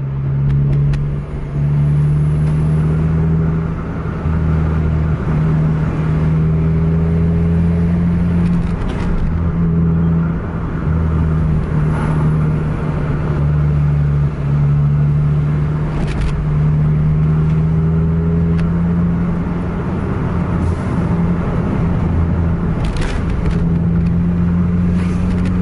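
A Scania K410 bus engine drones loudly and steadily with a slowly rising tonal pitch as it accelerates hard along a road, heard close from inside the coach.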